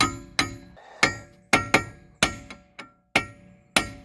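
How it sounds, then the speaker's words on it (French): A sledgehammer drives a chisel to free a stuck cylinder head, a series of about ten loud sharp metallic strikes in an uneven rhythm, each ringing briefly, no speech. "Ils disaient carrément à la masse et au burin."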